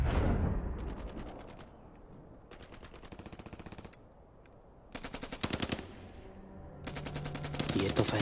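Close-range gunfire in rapid automatic bursts, loud and near, several strings of shots separated by short pauses, with a few single cracks between them.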